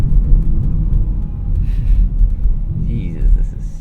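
A 2017 Dodge Charger V6 heard from inside the cabin, low engine rumble rising and falling as it revs and downshifts, with a person talking over it.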